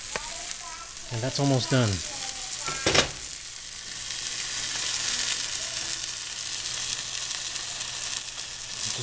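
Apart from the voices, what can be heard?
steaks frying in a pan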